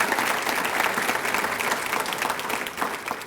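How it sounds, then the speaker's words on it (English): A roomful of attendees at a county business address gives sustained, dense applause, with even clapping continuing without pause throughout. "Please give them a big round of applause."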